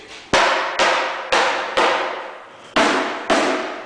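A metal hammer strikes a painted litter bin six times in an uneven rhythm, each blow a loud, close, ringing clang that decays briefly before the next.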